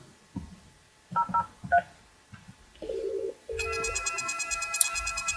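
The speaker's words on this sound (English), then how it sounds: "So let's dial now." A series of short telephone keypad tones beep one after another as a four-digit extension is dialed, followed by a steady electronic ringing tone.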